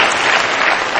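A studio audience gives loud, dense applause at a televised music show, an even burst of clapping throughout with no talk on top.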